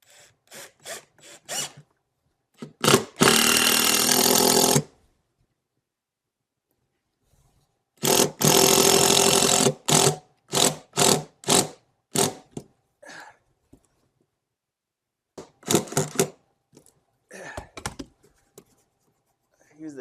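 A power drill drives stainless steel screws into a boat in two sharp bursts of a couple of seconds each, separated by quiet gaps, with someone talking in short phrases around them.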